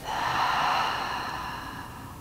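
A single long exhale out through the mouth during a yoga class, a soft breathy whoosh that fades gradually over about two seconds.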